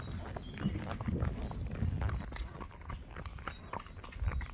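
Horse hooves clip-clopping at a walk on an outdoor ride, a steady uneven patter of close hoofbeats mixed with tack and movement noise, continuous throughout with no talk.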